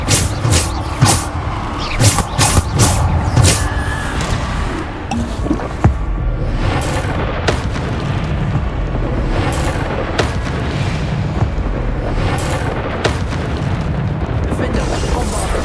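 Bombarda spell blasts boom repeatedly in Hogwarts Legacy combat, heavy explosive bursts landing in an irregular rhythm over a thick, rumbling battle ambience with a player's voice speaking at times.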